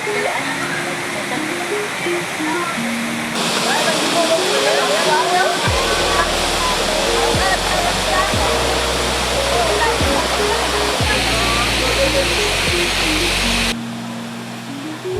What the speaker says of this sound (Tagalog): bation ng kabugnaw sa nagdagan nga tubig nga diretso gikan sa bukid